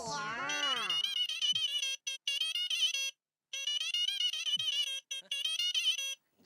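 A phone ringtone plays in a domestic comedy scene, an electronic warbling melody repeating in bursts with short gaps, clear and fairly loud with no talking over it.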